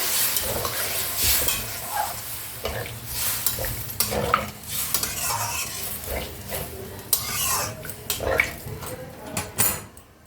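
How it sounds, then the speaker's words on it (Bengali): Water is added to a frying spice paste with potatoes for an egg bhurji curry, giving sizzling and bubbling along with frequent scraping and stirring of a utensil against the pan, close and without speech. "এবার আমি এতে জল দেবো।"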